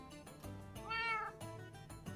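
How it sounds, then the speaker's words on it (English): A cat meows in a modded Minecraft game, a drawn-out rising and falling call in the middle, framed by shorter tonal game sounds and soft clicks before and after. "Did you just meow at me, Waddles?"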